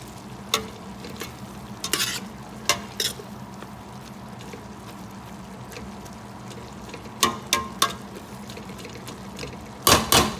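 Green beans and bacon fry over high heat in a steady sizzle, broken by scraping bursts of stirring that come in clusters, loudest near the end.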